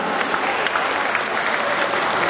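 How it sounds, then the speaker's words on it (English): A stage magic show audience claps in a dense, steady burst of applause that stays loud and even throughout, with no voices on top. "Give them a big round of applause."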